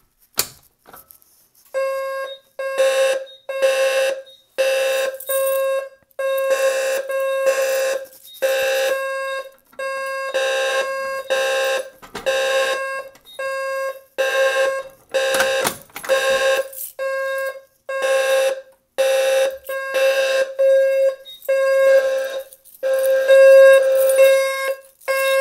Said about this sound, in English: I'm sure you probably heard that Wheelock strobe is kind of raspy.